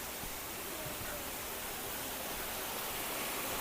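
Water pours down from above in a tropical garden on Ko Samui, a dense, even rushing splash that stays steady and fairly near throughout, with no clear voices.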